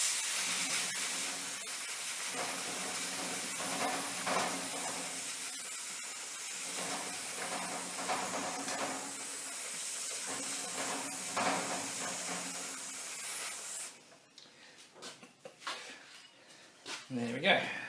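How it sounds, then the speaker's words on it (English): Penrite chain lube sprays onto the chain of a raised 2006 Triumph America motorcycle in repeated hissing bursts, with someone talking over it, then a few clanks and rustles near the end. "Put a bit of chain lube on while she's up in the air."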